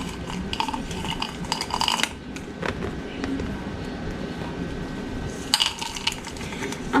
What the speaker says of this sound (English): I'm just going to go ahead and start mixing in my nougats